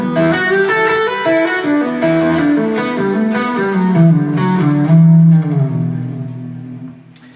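Electric guitar playing a fast fusion legato lick, a smooth continuous stream of hammered and pulled notes running for several seconds before easing off, close and prominent with no voices.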